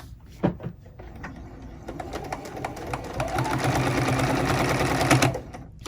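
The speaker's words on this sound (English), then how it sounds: "we're going to start stitching right off the edge of the quilt and stitch right onto it" A sewing machine stitches quilt binding onto the edge of a quilt, its needle running in a fast, steady rhythm that builds and holds before stopping, close and clear.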